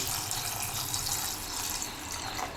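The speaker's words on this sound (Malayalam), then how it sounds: "ഇനി നമുക്ക് ഈ മുന്തിരിയുടെ മുകളിൽ നിൽക്കുന്ന രീതിയിൽ വെള്ളം ഒഴിച്ചു കൊടുക്കാം" Water poured into a pot of grapes being prepared for a grape shake: a steady, fairly quiet rushing and splashing with no talk.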